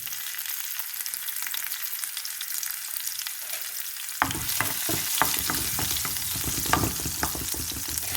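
Finely cut curry leaves and green chilies dropped into hot oil while making samosa filling: a steady hiss that swells into a louder, crackling sizzle midway, with intermittent stirring scrapes against the pan.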